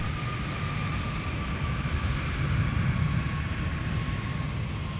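An airliner takes off from runway 17 at Minneapolis–Saint Paul airport, its engines making a steady broad roar that holds at a moderate distance and swells slightly midway, with no voices.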